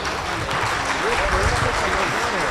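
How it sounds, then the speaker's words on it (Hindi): Audience at a Varanasi kavi sammelan poetry gathering breaks into sustained clapping, a dense wash of many hands with a voice speaking over it. "जरा जोरदार तालियां होनी चाहिए।"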